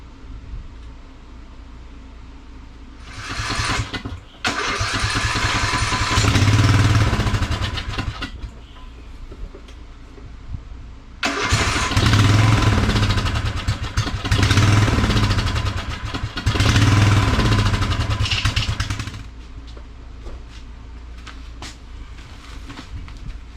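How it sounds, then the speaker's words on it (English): A Craftsman LT1000 riding lawn mower engine is started and runs loudly nearby in two separate stretches. Each stretch has a steady rough drone, and a quieter idle-like hum fills the gaps before, between and after. "And then we're going to try to start it and see how she runs."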